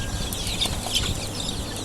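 Chickens on a poultry farm cluck and squawk in short bursts over a steady background of farmyard noise, several birds close by and continuous throughout.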